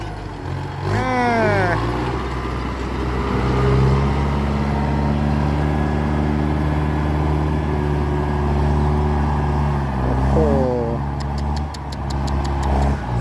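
A heavy tractor engine runs steadily at close range, chugging in a low rumble, with voices talking over it and a brief rise in revs near the end.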